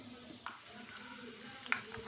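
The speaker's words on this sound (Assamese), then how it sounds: "এতিয়া মই কেৰাহীত তেল গৰম হ'বলৈ দিছো এতিয়া মই প্ৰথমতে বাদামখিনি ভাজি লওঁ" Peanuts fry in hot oil in a kadai, a steady soft sizzle with occasional small clinks and pops, close and moderately quiet.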